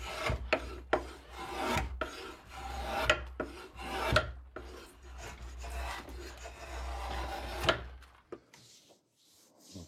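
A hand rasp scrapes a wooden spoke for a wagon wheel in a craft workshop, a steady run of close, loud strokes with brief pauses between them that stops just before the end.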